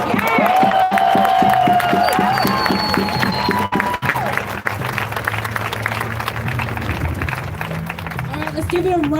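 A rally crowd applauding and cheering, with loud shouting and a sustained whistle-like tone early on, then ongoing dense clapping and crowd noise at fairly close range.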